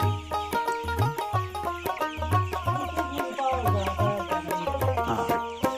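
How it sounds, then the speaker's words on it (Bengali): Chickens on a poultry farm of about four hundred birds give off dense overlapping clucks and short calls in a steady, busy rhythm. The sound is close and fairly loud, and nobody speaks. "সাড়ে চারশো মুরগি তুলছেন"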